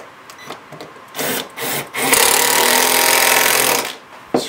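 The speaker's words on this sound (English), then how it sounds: "So drill here, I like to drill it in." A power drill drives a 2.5 inch screw into wood in a shop, with short bursts of whirring followed by one long, loud sustained run that stops abruptly.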